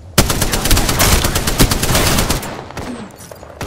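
Rapid, loud bursts of automatic gunfire during a video game match, a dense rattling stream of shots that thins out toward the end.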